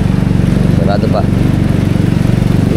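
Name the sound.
motorcycle engine driving through flood water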